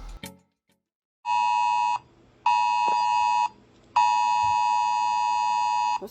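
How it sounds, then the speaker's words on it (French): A tornado alert alarm on a phone blares in three loud, shrill electronic tones. Each lasts one to two seconds, with short quiet gaps between, and follows a brief rustle at the start. "réveil en fanfare à 5h par une alerte tornade"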